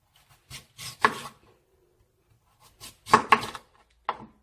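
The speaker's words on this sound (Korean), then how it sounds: "나박나박 이렇게 썰으셔도 됩니다" A knife cuts radish into thin square slices for beef radish soup on a cutting board, a few close, crisp chopping strokes in two brief bursts separated by quiet.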